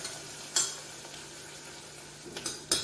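Onions with ginger-garlic paste frying in a pan: a soft steady sizzle underneath, broken by a few sharp scrapes and clinks of a spoon stirring against the metal.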